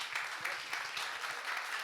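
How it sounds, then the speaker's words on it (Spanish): Steady applause from an audience, dense clapping filling the whole moment without letup, no voices on top. "Pedimos un fuerte aplauso para él."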